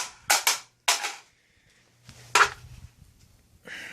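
A HEXMAG rifle magazine is thrown hard onto concrete several times. Each throw gives a sharp, close clack with a short rattle, in separate bursts with quiet gaps between them. No one talks.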